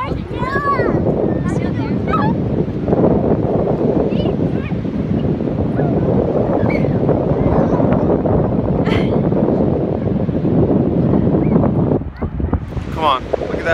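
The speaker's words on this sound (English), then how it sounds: "It's windy." Strong wind at a beach in Lincoln City buffets the microphone with a constant roaring rush, surf noise mixed in, while people talk and call out over it.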